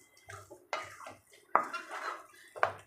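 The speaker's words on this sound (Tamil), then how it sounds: "நல்லா இதை கலக்கி விட்டுடலாம்." Thiruvathirai kali is stirred in a pan with a utensil, a few separate scraping and knocking strokes, close and fairly quiet, with silence between them.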